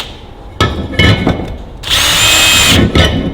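Power drill clearing glue out of rivet holes on a Ferguson TEA20 tractor part, with short stuttering bursts and then a sustained whine of about a second, close and loud, followed by a brief final spin.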